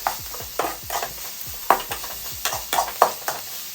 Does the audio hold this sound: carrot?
yes